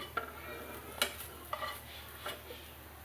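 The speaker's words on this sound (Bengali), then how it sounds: "এখন আমি একটু নেড়ে চেড়ে একটু ভেজে নামিয়ে নেব" A spoon stirs onion, garlic and green chillies frying in a pan for a Bangladeshi bottle-gourd leaf dish, with a few sharp scraping clinks over a steady soft sizzle and no talk.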